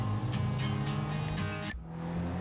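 Car engine hum from a vehicle driven in GTA 5, a steady low drone with a brief drop near the end, loud and continuous with no talk.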